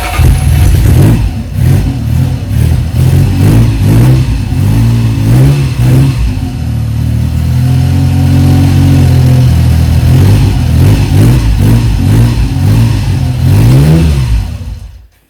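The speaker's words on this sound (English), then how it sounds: "Choke on full, carbs tickled. Let's see what we got." A Triumph Trident T150V three-cylinder motorcycle, started on full choke with its carbs tickled, barks into life and is revved repeatedly at close range, sharp throttle blips rising and falling over a lumpy idle, then cuts out.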